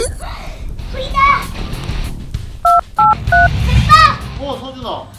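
Telephone keypad tones beep in short bursts, several discrete dialing tones during children's play with a Bruder toy fire truck, mixed with a child's and an adult's voices talking around them.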